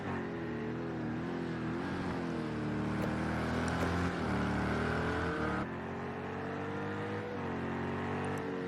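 GTE race cars, a Corvette and a Ferrari, race at Circuit of the Americas. Engines drone loudly and continuously, with pitch rising and falling through gear changes and a sharp shift midway.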